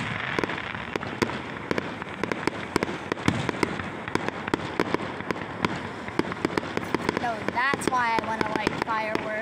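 Fireworks crackling and popping at a firework festival, a dense run of sharp bangs and crackles over a constant roar, with voices heard faintly underneath.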